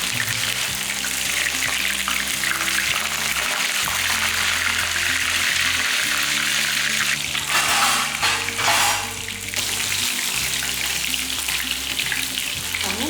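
Fish frying in a pan gives off a steady, loud sizzle that runs the whole time, with brief bursts of sharper crackle partway through.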